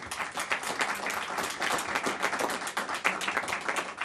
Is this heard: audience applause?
yes